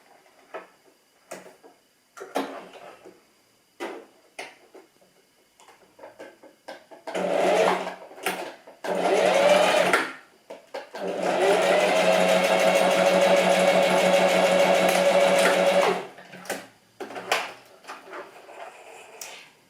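A sewing machine stitches a skinny fabric scrunchie in short bursts and then one long continuous whirring run, close up, between scattered clicks and handling taps.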